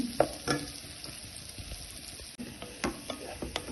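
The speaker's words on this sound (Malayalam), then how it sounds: "നമ്മളൊന്ന് നെയ്യിൽ ഒന്ന് ഇതുപോലെ വഴറ്റിയെടുക്കണം" Plantain sautéing in ghee in a pan, giving a soft, steady sizzle broken by a few sharp clinks and scrapes of stirring.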